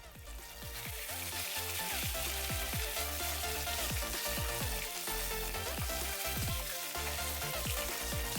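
Bhetki fish fries steadily in hot oil for a Bengali fish curry, a dense, even sizzle holding at close range throughout with scattered crackles and pops and no voices.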